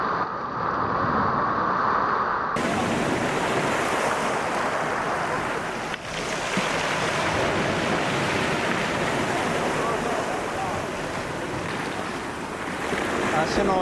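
Rough sea surf washing into a rocky, craggy inlet at Lüshun, Dalian, a steady broad roar of waves with wind buffeting the microphone, continuous and fairly loud throughout.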